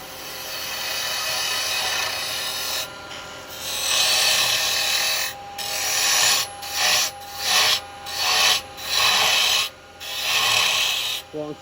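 A carbide tool cuts into wood spinning on a lathe while a ballerina spinning top is shaped, giving a close, loud rasping scrape that breaks into short bursts with brief pauses. No one talks.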